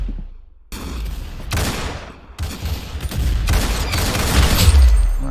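Video game gunfire comes in loud bursts of rapid shots, breaking off in short gaps and then returning as dense volleys that grow heavier toward the end.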